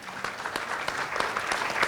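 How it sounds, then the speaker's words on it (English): An audience applauds a guest speaker at a panel event on global affairs, steady clapping filling the room at moderate loudness without pause. "So please give a big round of applause to Pak Hasan."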